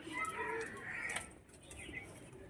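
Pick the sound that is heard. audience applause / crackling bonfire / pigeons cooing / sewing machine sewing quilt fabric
pigeons cooing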